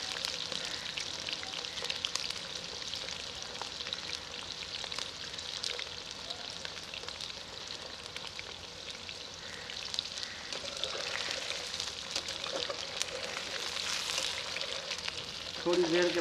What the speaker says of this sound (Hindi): आलूओं का सुनहरा कलर आने तक फ्राई करेंगे।